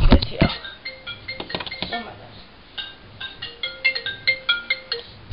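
A telephone ringtone plays as a repeated electronic melody of bright chiming notes, loud and close, with a short burst of talk at the start.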